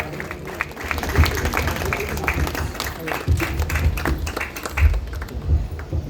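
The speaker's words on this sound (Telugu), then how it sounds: "గట్టిగా చప్పట్లు కొట్టండి." An audience at the inauguration of a church wedding hall in Kazipet claps loudly and continuously, a dense rattle of many hands mixed with a speaker's voice over the crowd.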